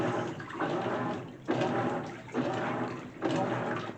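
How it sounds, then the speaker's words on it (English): A GE washing machine rinsing clothes on its normal cycle: water rushes and splashes in repeated surges, each swelling loud for about a second before easing, close and steady throughout. "And rinsing, it does very well, so that's why it's very quick."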